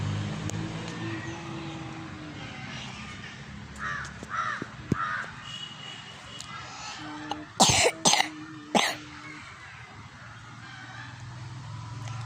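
Several crow caws ring out outdoors, a few spaced calls near the middle followed by louder, sharper bursts, over steady background hum and distant traffic.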